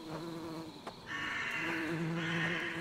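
Bees drone steadily in a haunted forest in the hiking video game Great North Shelter 2, a continuous close buzzing hum that swells partway through and holds over soft ambient tones.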